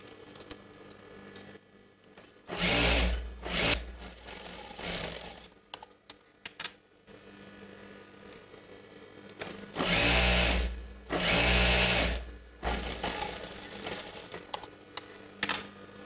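A sewing machine stitches fabric pieces for chudidar gathering pants, with two loud runs of steady whirring, one short and one longer, separated by quieter handling clicks.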